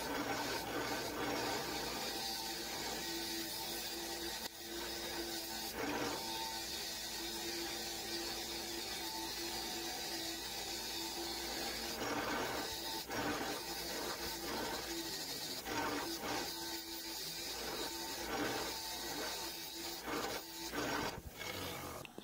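The head of an old Clark expansive auger bit being cleaned, a steady rough scrubbing and whirring noise that runs throughout, with occasional louder scraping bursts near the end, with no talking.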